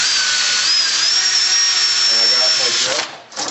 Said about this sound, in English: Got my drill on low speed as well